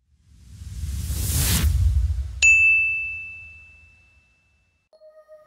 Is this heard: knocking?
no